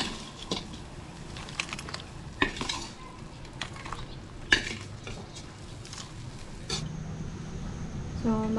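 Kitchen clatter of a metal pan being stirred while small shellfish fry until crisp, with scraping clinks and knocks over a low steady sizzle.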